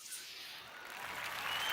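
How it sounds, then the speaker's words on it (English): Applause from a small crafting chat show, a steady hiss of clapping that swells and grows louder toward the end, with no voices. "We're going to give you lots of claps."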